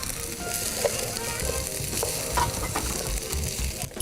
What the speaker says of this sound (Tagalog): Ayan na, ginisang sitaw na.